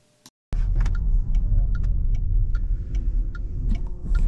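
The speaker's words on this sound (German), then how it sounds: "woher dieses komische Brummgeräusch kommt, das ist die Lüftung" Inside a Renault Megane E-Tech electric car, the ventilation gives a steady low hum close by, with faint ticking clicks recurring over it. The hum starts abruptly after a short quiet moment.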